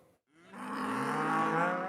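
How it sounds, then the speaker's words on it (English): On a farm, a single cow lets out a long, loud moo that swells in after a brief pause and holds steady and close. "All of the cows on Gwen Fuller's farm have a name."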